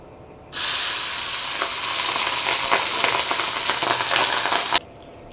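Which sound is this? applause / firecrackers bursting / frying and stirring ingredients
frying and stirring ingredients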